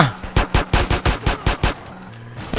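Rapid gunfire in the video game GTA: about ten sharp, loud shots in a quick regular burst, then a brief lull before one more shot.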